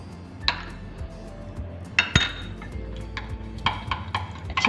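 A spoon clinks against a bowl while yogurt raita is stirred, with several sharp metallic taps and scrapes spaced irregularly over a soft, quiet background.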